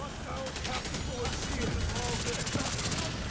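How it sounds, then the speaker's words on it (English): Sniper gunfire in The Division 2 shooter game crackles as dense, continuous shots over a busy wash of battle noise. "What's shooting me? Sniper."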